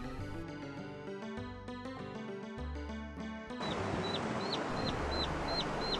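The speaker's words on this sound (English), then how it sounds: "What's that cheeping noise?" High, repeated peeping calls of five newly hatched chickens come in after a stretch of music, evenly spaced and fairly clear over a noisy background.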